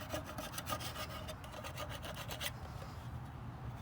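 Hard grease is scraped inside a Vulcan fryer in rough, steady rasping strokes up close, a dense grinding scrape that carries on throughout.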